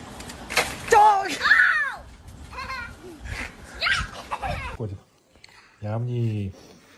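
A dog gives a short barking outburst near the end, following several seconds of overlapping voices talking in a noisy home setting.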